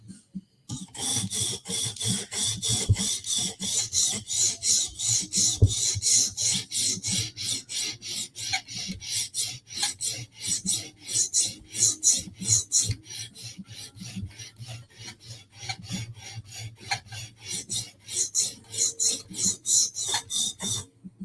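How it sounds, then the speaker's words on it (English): Steady, even rasping strokes of a blade's bevel being sharpened on a stone or file, a long unbroken run of rhythmic back-and-forth scrapes, close and fairly loud with no talking. "just going to give it a normal sharpening and see where it kind of ends up"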